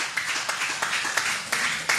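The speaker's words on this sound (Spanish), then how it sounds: "denle palmas, hermanos" A church congregation claps hands in a steady, fairly quick rhythm, a soft group of claps heard at moderate distance.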